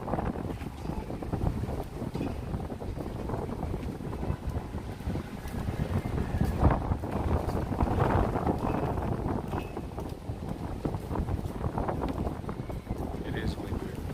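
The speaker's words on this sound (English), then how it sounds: "It is windy." Steady outdoor wind rumble buffeting the microphone in Greenwich Village, New York City, a dense low roar throughout with gusts swelling in the middle; voices are faintly mixed in.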